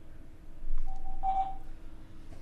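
A phone line rings during a podcast call, giving one steady electronic tone of about half a second over a low hum, with no talking.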